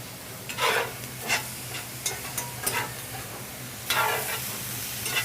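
Chicken long rice ingredients sauteing in a hot pan, a continuous sizzle broken by repeated scraping stirs of a utensil at irregular intervals, close and without talk.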